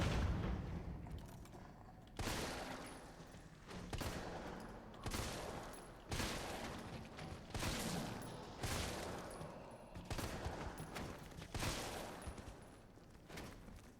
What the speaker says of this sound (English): I do perform a successful dodge and I'll lay waste to him with the shotgun